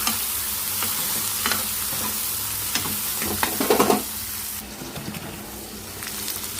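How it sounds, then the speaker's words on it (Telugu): Onions, tomato and green chillies fry with a steady hiss. A spatula stirs and scrapes in repeated strokes, with a brief louder burst of sizzling before the sound settles to a quieter fry. "టమాటా ముక్కలు అలానే పచ్చిమిరపకాయలు టమాటా ముక్కలు కూడా బాగా ఫ్రై వరకు కలిపేసుకోవాలి"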